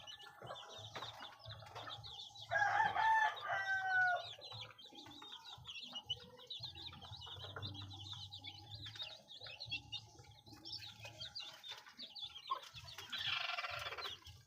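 Hens cluck and chatter close by in a coop with newly hatched chicks, a continuous murmur of soft clucks and occasional louder squawks, with no talking.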